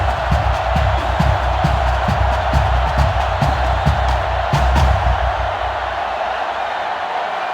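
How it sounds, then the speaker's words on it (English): A loud college football stadium crowd roars in the NCAA Football 2005 video game, Tennessee hosting USC, the fans on their feet: a dense, sustained wall of cheering with rhythmic surges, steady throughout before easing slightly near the end. "They're one of the loudest crowds in the country, and they are on their feet."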